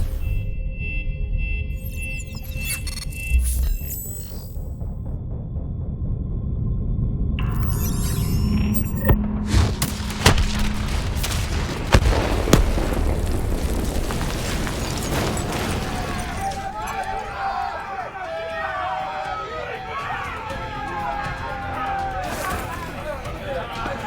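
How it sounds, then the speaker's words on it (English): A detonation in the Call of Duty: Black Ops 3 video game, with deep rumbling blasts and booming impacts around the middle of the clip, scored under game music and voices talking throughout. "Detonate now!"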